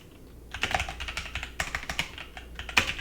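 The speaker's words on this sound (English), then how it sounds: "leave a space in between and keep on typing" Steady typing on a computer keyboard, rapid close key clicks in short runs with brief pauses, no voices over it.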